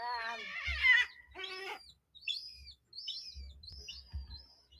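A bird screeches loudly, then gives a run of shorter high chirping calls with brief pauses between them, close by and with no speech.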